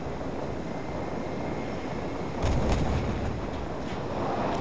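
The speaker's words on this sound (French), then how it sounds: "Une bien belle explosion." A heavy explosion in the PS3 shooter Killzone 3 bursts out partway through as a deep booming blast with a few sharp cracks, rising over a constant low rumble of wind and battle noise.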